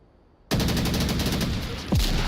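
Gunfire in the VR shooter Onward during a competitive match: a sudden loud burst of rapid automatic shots that keeps rattling steadily, with a second, louder volley near the end.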